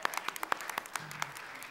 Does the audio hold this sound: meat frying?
no